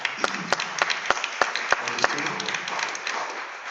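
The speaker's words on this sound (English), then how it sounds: "Please round of applause." Applause at a school board of education meeting, honoring a custodian: a handful of distinct, crisp claps open, then merge into a continuous round of clapping from a seated audience.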